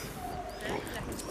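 A dog squabbling and scuffling with another dog, giving faint, brief growly whimpers and yips against a soft, noisy background.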